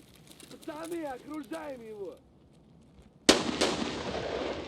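Gunfire in Escape From Tarkov: after a voice talks, there is a short quiet gap, then a loud sharp shot cracks and echoes, followed by a second report.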